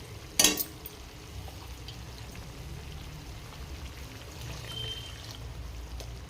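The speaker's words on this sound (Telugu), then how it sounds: "మనం ఇప్పుడు వాటర్ పోసేసుకుందాం." A short, sharp burst of water splashes into a pan of simmering paneer curry, followed by a soft ongoing bubbling and trickle.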